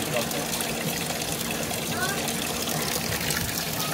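Continuous rushing and splashing water in a children's museum water play area, steady and close throughout, with voices talking over it.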